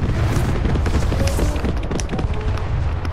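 Continuous heavy booming rumble of an airstrike in a multiplayer video game, dense low-end blasts sustained across the whole stretch with scattered sharper hits on top, loud and close.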